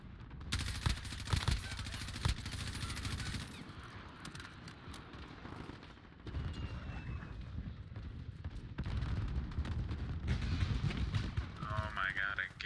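Gunfire in the video game Modern Warfare, rapid bursts of automatic shots in the first few seconds followed by further scattered firing and game noise, with a person talking over it.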